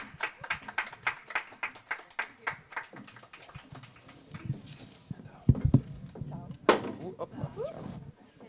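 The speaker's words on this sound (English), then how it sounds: "A big round of applause, please." An audience at a Caribbean cinema session of the AfroCannes festival applauds speakers welcomed to the stage, starting as sparse rhythmic claps that fade, then giving way to close talking and handling noises.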